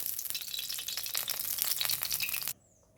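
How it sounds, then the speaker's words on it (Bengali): Mustard oil hitting a hot wok sets off a loud, bright sizzle that crackles and spits steadily for a couple of seconds, then cuts off to near silence. "অন্যদিকে আমি কড়াই গরম করে নিয়েছি এবং কড়াইতে দিয়ে দিচ্ছি কিছুটা সরষের তেল।"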